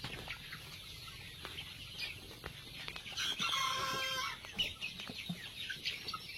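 Chickens cluck and a rooster crows at a rural poultry spot, the calls moderately distant and overlapping in bursts against a quiet outdoor background, with no talking.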